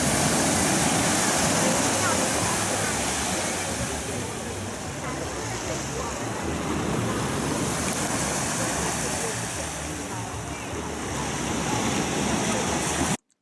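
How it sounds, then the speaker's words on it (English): Ocean waves wash in steadily and loudly, a continuous broadband roar of surf that swells and eases slightly for about thirteen seconds, with no voices over it. "this clip is basically the ocean wave"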